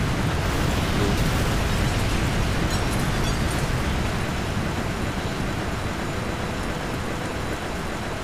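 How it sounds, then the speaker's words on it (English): A huge explosion from the video game Call of Duty Black Ops, played through the U.S.D.D and Executive Orders missions, fills the whole stretch as a dense, loud, unbroken roar with a rumbling low end. "right now we'll look at the awesome explosion"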